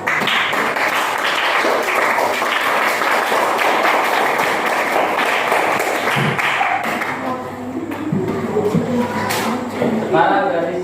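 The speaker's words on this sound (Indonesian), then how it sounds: "kita kasih aplaus untuk kelompok 2" A primary-school class of sixth graders applauds a student group in a classroom, loud sustained clapping from many hands that fades out, followed by scattered voices and light chatter.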